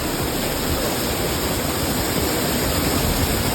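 A village waterfall roars steadily and loudly, a dense, unbroken rush of falling water from close by.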